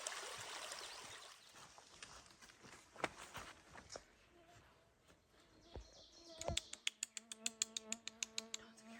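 Biting insects buzz on a hiking trail in Killarney Provincial Park. Faint, intermittent whines drift near and far over a low stream murmur, with scattered clicks and a few rapid ticking bursts toward the end.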